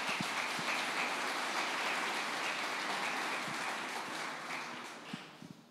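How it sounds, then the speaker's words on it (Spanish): Church congregation applauding during a sermon, a dense, steady wash of many hands clapping that fades toward the end, with a few scattered claps at the close. "Dale un aplauso a Jesús."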